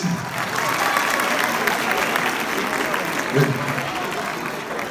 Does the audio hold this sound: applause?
yes